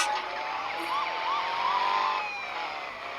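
A police car siren wails in a rising and falling pattern, loud and close, over steady traffic and street noise, with no one speaking.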